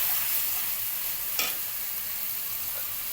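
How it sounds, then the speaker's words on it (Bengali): Food stirs and fries in a pan in a home kitchen, with a steady sizzling hiss throughout and a brief scrape of stirring partway through, heard close and without talk. "ঘরেই ভালো মন্দ রান্না হয়ে যাচ্ছে"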